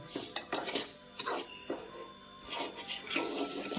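Coarse semolina being roasted in ghee in a pan, with scraping stirs and light clinks of a spoon against metal, fairly faint and close.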